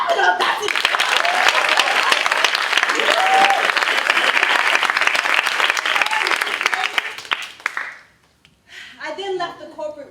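Theatre audience at a festival bursts into sustained, loud applause with scattered cheers, running for about eight seconds before fading out; a speaker's voice then resumes briefly at the end.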